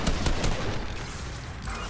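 Rapid gunfire while shooting zombies on a Fortnite vampire zombies map, a dense burst of near shots at the start thinning into a steady rattle of game combat noise.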